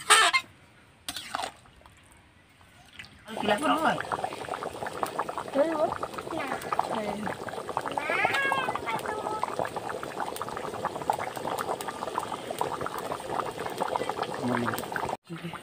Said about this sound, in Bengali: ঝোলটা একটু ফুটে গেলেই নামিয়ে নেব।